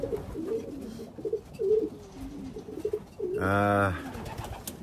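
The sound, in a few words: racing pigeons cooing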